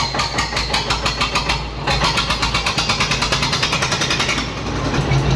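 A 1998-model tractor with a 41 NC engine runs steadily close by, its loud, rapid rhythmic chugging pulsing evenly throughout with no talk over it.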